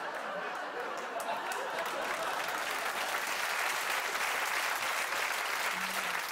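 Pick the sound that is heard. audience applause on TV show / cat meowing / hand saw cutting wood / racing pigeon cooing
audience applause on TV show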